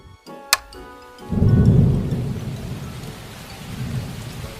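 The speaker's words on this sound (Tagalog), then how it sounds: "lumakas na yung ulan" A sharp crack of thunder is followed by a deep rolling rumble as a downpour swells into steady heavy rain drumming on surfaces nearby.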